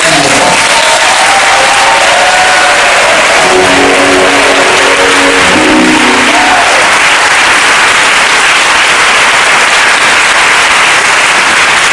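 Sustained applause from a large church congregation at a Mass, loud and continuous, with a dense wash of clapping that holds steady throughout and no voices on top.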